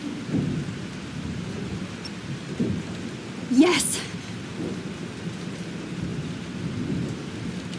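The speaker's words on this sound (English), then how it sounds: "This storm's real." Rain pours steadily during a thunderstorm in the video game Life Is Strange, with a sharp thunder crack midway, and a voice briefly calls out.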